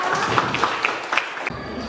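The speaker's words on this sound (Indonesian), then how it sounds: "Ya, tepuk tangan untuk Novita." A classroom audience at a dance lesson gives brief applause, a light scatter of clapping hands that lasts about a second and a half before fading.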